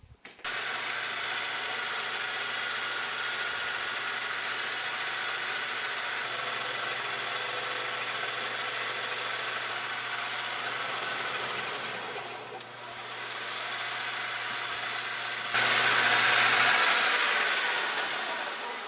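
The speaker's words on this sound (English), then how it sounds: "I'm able to lug the spindle motor down before the stepper bogs out, so it seems like that thing has enough torque" A lathe spindle motor on a DRO-controlled machine runs under load while cutting threads, giving a steady mechanical whir and hum that dips briefly midway, then returns louder near the end.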